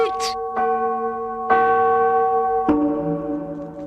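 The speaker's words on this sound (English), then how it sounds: "ringing the bells till they rocked the steeple" Large church bells ring out in a few resonant strikes, each leaving a long, humming tail that overlaps the next.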